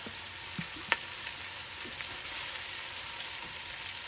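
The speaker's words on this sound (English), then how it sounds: "It takes a few minutes to get it browned, so it's cooking." Mango curry sizzles steadily in a pot as it browns, with a constant close frying hiss and a few faint clicks, and no voices.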